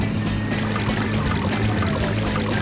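Water pours into a container during a firefighter task in a children's cartoon driving game, a steady, loud rushing gush with gurgling texture that runs unbroken for a few seconds.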